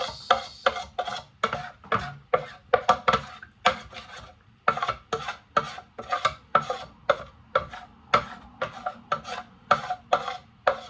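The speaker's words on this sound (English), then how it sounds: "Let me give it a little mix." Thick cream of rice with protein powder and blueberries being stirred by hand, a quick run of rhythmic scraping, rasping strokes of the spoon against the bowl, close and continuous with short gaps.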